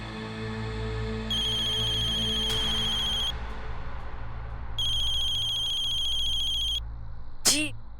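A phone ringtone plays in two long ringing bursts with a short pause between them, loud and close over a steady low background hum.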